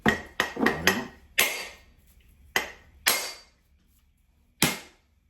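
A coconut struck to crack it open gives a handful of sharp, hard knocks, a quick cluster at first and then isolated blows with silent gaps, close and fairly loud, no talking.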